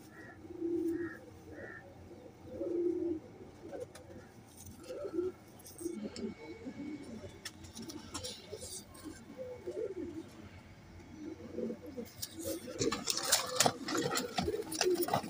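Wehshi Sialkoti pigeons coo in soft, repeated low calls, close by, with rustling and fluttering movement toward the end.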